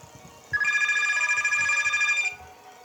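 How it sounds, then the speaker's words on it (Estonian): A telephone rings inside the Pizza Factory Tycoon video game, a steady electronic trill lasting about two seconds, clear and fairly loud over faint background noise. "See on mängu sees telefon heliseb."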